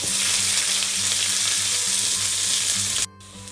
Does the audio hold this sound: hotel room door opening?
no